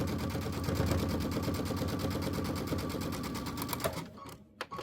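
A sewing machine stitches a patchwork flag block in a fast, even needle rhythm that runs steadily for about four seconds, then stops, leaving a few faint clicks and handling noises.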